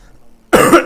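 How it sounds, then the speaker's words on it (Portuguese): A single short, loud cough from a dry throat, close to the mic, after a near-silent moment. "Desculpa aí, tá tosse."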